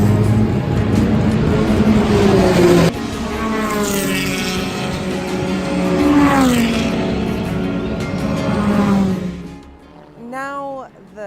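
Race cars lapping Estoril circuit in Portugal, loud engine notes rising and falling as cars pass, Doppler sweeps one after another, then a quieter moment as a voice speaks over the end.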